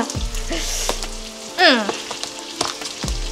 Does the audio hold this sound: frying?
yes